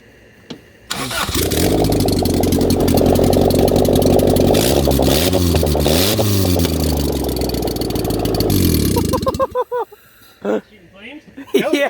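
A turbocharged Honda engine cranks and fires up, running loud and rough for about eight seconds before cutting out, followed by short bursts of voices.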